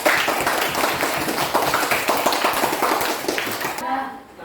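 Classroom applause from pupils, a short burst of brisk clapping that fades out near the end, with voices heard over it.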